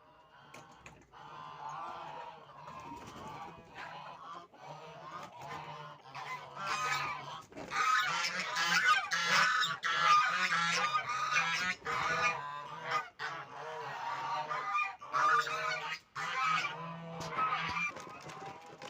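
A flock of geese, ducks and chickens honk and cackle as they are let out of the coop in the morning, growing louder and busier partway through, with the calls overlapping close by.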